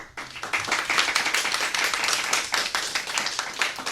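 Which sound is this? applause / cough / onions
applause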